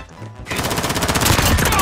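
Rapid automatic gunfire in the Call of Duty Modern Warfare video game, a dense burst of loud repeated shots that starts abruptly after a brief quiet moment and continues to the end.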